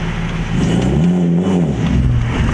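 A fast car of roughly 500 horsepower, driven with a broken rear end, revs steadily and continuously up close and loud as its engine pitch rises and falls across the short stretch.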